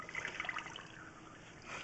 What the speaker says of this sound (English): Currently have water running.